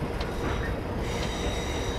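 A Class 6400 diesel locomotive in Train Simulator 2022, heading toward Apeldoorn VAM, rumbles steadily with a continuous loud rolling drone and faint high metallic tones, like rail wheels running along track.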